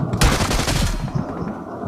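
Rapid automatic gunfire in a multiplayer shooter video game, a loud close burst of shots lasting about a second, then quieter game noise.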